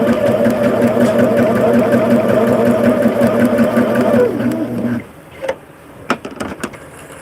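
A sewing machine stitches fabric pieces for a flying geese quilt block, running steadily for about five seconds before stopping, followed by a few soft handling clicks.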